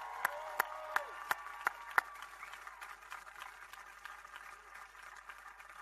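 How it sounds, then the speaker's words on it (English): A round of applause at a hospital ribbon-cutting ceremony, heard faintly and at a distance as a soft patter of many hands, with a few louder close claps near the start. "we're going to give you a big round of applause for all your work"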